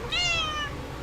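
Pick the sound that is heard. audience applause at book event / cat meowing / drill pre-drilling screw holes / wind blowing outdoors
cat meowing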